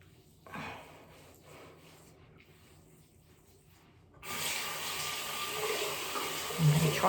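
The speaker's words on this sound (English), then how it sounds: "I'm going to try rinsing some of this off before I use the flannel" Tap water running while face wash is rinsed off, a quiet rubbing start followed by a steady, close, broadband gush of water that holds to the end, with no speech.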